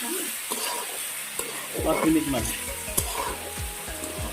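Jackfruit curry fries in a pan with a soft, steady sizzle. A utensil stirs it in a series of scraping strokes, and a voice speaks briefly.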